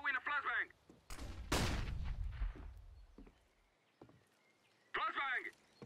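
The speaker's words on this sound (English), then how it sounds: "I am throwing a flashbang." In Counter-Strike: Global Offensive a flashbang grenade pops with a loud sharp burst and a brief crackling ring, framed by game voice chatter at the start and end.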